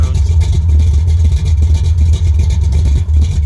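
An old muscle car that has been sitting idles steadily after a cold start, a loud, deep, continuous rumble with slight lope, heard up close with no talking.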